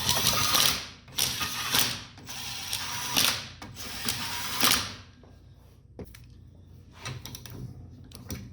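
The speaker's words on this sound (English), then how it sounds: "Torque everything to spec." Torque wrench ratcheting as rod nuts are tightened on a Ford 302 shortblock, several loud clicking bursts in a row followed by quieter sparse clicks and taps, close by with no talking.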